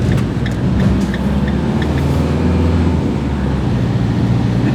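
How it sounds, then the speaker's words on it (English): An empty Ram ProMaster diesel van on a test drive gives off a loud, continuous low engine drone and road roar inside the cab, steady throughout with faint rattles on top. "empty van, so it's going to ride a little different, probably going to be a little loud. And we're off."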